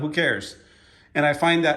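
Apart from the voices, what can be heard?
None of the usual background noises is heard.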